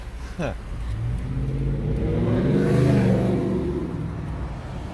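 A single cab pickup truck drives past on a Los Angeles street, its engine rising to a broad whooshing peak and then easing away. The vehicle sound is steady and fairly loud, with brief talk at the start.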